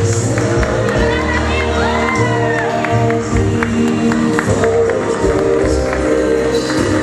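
Friends at a quinceañera celebration cheer, shout and clap together in a loud, continuous party din, with music and voices mixed through the crowd noise.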